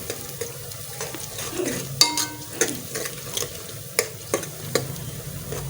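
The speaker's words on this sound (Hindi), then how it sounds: "इसको भी थोड़ा सा भूनना है" Coarsely chopped garlic fries in a pan with a continuous sizzle, broken by repeated metal stirring clinks and scrapes in a steady rhythm, close up with no talking.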